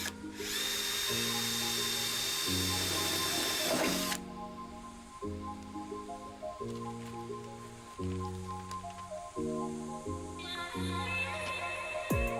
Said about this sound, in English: Now we just need to drill all our pilot holes out to 8mm.